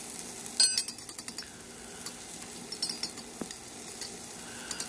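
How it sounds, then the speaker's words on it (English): Chopped fresh garlic and ginger fry in hot oil in a pan, giving a soft continuous sizzle broken by light clinks and stirring taps from a utensil, fairly close and steady. "then we're gonna fry the garlic and ginger in the oil as best we can."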